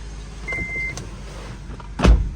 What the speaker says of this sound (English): let's start the engine and see how it goes. Should be good. Boom, car starts smooth.